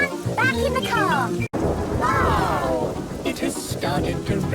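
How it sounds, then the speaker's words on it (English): Cartoon rain falls steadily with a deep thunder rumble in a Peppa Pig scene, mixed under dense sound effects and chirping cartoon voices throughout. "It has started to rain."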